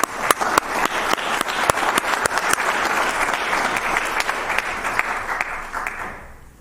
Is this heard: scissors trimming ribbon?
no